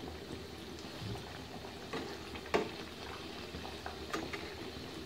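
Green winter pakoras fry in hot oil with a steady, close bubbling sizzle, marked by a few sharper pops and crackles.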